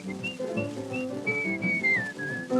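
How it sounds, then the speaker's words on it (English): A merry tune whistled loud and long in an old-time radio song, the clear melodic line gliding and sliding over a full band accompaniment throughout. "Whistle loud and long, just hum a merry tune."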